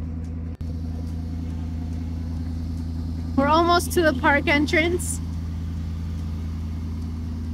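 A carbureted 1973 Ford F100 with a 390FE V8 drives up a mountain road toward Yosemite, its engine a steady low rumble that runs the whole way. A person talks briefly over it.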